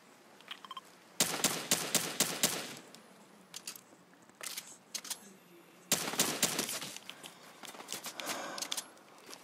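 An AK rifle in a video game fires in two rapid bursts of sharp, cracking shots, with a few scattered single shots between, loud and close against a quiet background.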